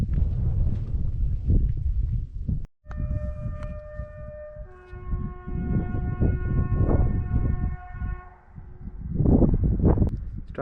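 Level crossing warning at Strathcarron in the Scottish Highlands, a steady multi-tone alarm sounding for several seconds, heard outdoors over wind buffeting the microphone, with a brief break in the wind noise near the start.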